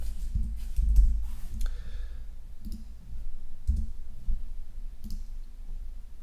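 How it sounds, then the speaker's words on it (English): A computer keyboard is typed on with one hand, producing sparse, irregular clicks of single keys, nearby but fairly quiet, over a low steady room hum with no talking. "I'm trying to type with one hand."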